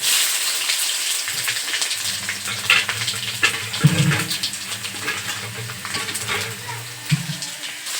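Garlic and curry leaves frying in hot oil for a gongura pickle tempering, giving a steady, close, crackling sizzle with occasional louder pops and spoon stirs throughout.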